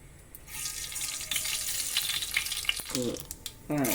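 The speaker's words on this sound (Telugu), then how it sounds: "ఈ చెంచుతో రెండు చెంచాలు ఆవాలు వేస్తాను ఆవాలు" Mustard seeds sizzle and crackle in hot oil in a pan while cooking spinach dal, a steady close frying hiss with a few small pops, joined by a couple of brief clattering utensil sounds near the end.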